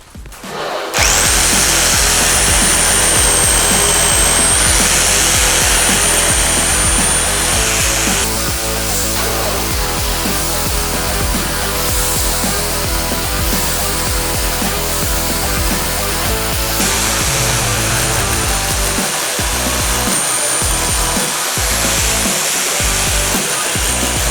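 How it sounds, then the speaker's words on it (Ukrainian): A rotary hammer in hammer-drill mode roars loudly and continuously while drilling a series of holes, with a steady hammering whine and a few brief stops near the end. "Переводимо тут режим роботи на свердління з ударом."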